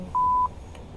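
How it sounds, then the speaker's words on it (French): A single electronic alarm beep in the Z2N SimExpress train simulator game: one steady mid-pitched tone lasting about a third of a second, clean and close, followed by a faint click. "vous entendez donc l'alarme"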